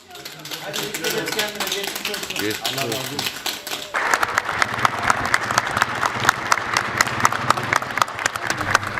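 Hospital doctors, nurses and staff applaud recovered coronavirus patients being discharged in Soma and Salihli, Turkey; talk and crowd noise give way to dense, sustained clapping that swells loud and steady through the second half.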